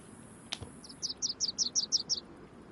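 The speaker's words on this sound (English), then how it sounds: "I can hear birds in the background." A bird at sunrise sings a quick run of about eight high, evenly spaced chirps over a quiet, steady background hiss, preceded by a single sharp click, with no talking.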